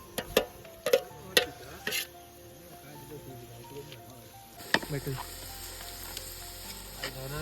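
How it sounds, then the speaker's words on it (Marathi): Tomatoes are stirred into browned onions in a cooking pot. A few sharp clanks of the spoon come first, then the frying sizzle grows denser and louder, close by and without talking. "आता आपण टोमॅटो टाकता तर टोमॅटो चांगलं मस्त टोपात हलवून घेणार"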